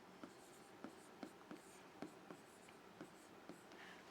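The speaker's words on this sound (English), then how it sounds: "let me write all these steps here" Pen or marker strokes across a surface while working through the steps of a cube math problem, quiet taps and scratches recurring about every half second, close and soft with no talking.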